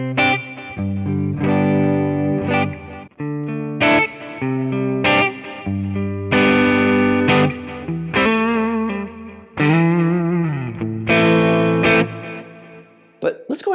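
Electric guitar through uncovered PRS SE 58/15 humbucker pickups with effects and light distortion, playing a smooth-toned sequence of sustained chords and single notes with bends, loud and close, no talking.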